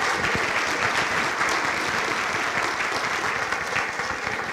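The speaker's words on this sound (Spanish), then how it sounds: "le damos un aplauso al doctor general Oscar Paredes Zapata por la intervención" An audience at a public accountability hearing gives steady, sustained applause, a full wash of clapping from many hands lasting throughout with no break.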